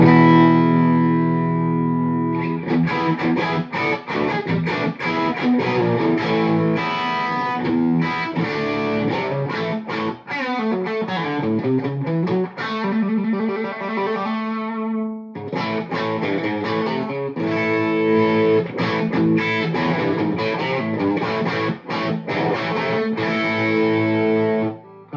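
Electric guitar through a TopHat E50 amp with the fat boost engaged on a big British voicing, played as a continuous loud distorted run of chords and riffs with a brief pause midway.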